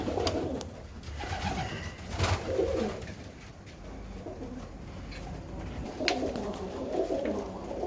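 Birmingham Roller pigeons of the George Mason line coo repeatedly in a loft, soft low calls rising and falling in bursts over a steady background murmur, with no speech.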